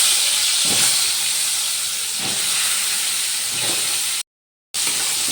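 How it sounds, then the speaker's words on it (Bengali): Pointed gourd pieces fry in hot oil in a pan, giving a steady, loud hiss of sizzling that continues unbroken apart from one brief cut to silence near the end. "পটলগুলো একটু ভালো করে ভেজে নেব।"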